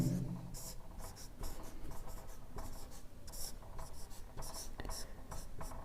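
A pen scratches across a notebook page in quick, irregular strokes and short pauses, close and fairly quiet.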